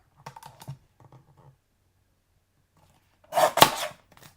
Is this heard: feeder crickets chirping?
no